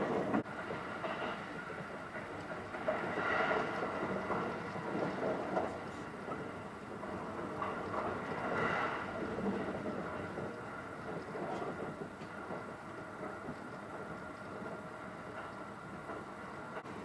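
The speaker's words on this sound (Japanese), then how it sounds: "この列車は特急ときわ71号勝田行きです。" A JR East Tokiwa limited express train on the Joban Line rumbles steadily along the tracks with a soft, continuous rolling hum and faint rhythmic clatter, heard from inside the green car at low volume.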